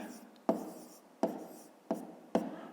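A pen writes numbers on paper in four distinct scratchy strokes, spaced at roughly even intervals and heard close up, with a quiet pause after each one.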